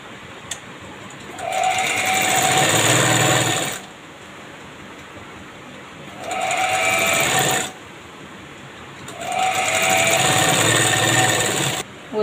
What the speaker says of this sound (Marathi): वरून एक शिलाई मारायची, दाब शिलाई मारायची